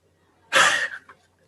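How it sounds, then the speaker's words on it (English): A sick monkey's sneeze played back from a recording: one short, sharp burst with a brief trailing puff, fairly loud and close, alone with no talk. "this monkey got cold and they're actually sneezing just like us"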